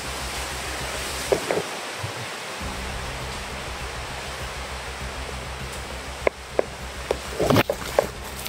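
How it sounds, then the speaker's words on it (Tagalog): Strong wind blows through stormy weather as a steady, dense roaring rush with no letup, joined near the end by a few brief knocks and rustles close by. "Malakas talaga ang hangin tol."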